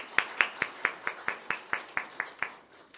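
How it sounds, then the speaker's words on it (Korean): Evenly spaced claps ring out in a Sunday church service to welcome visitors, about a dozen in a quick steady rhythm that fades toward the end. "우리 박수로 환영하도록 하겠습니다."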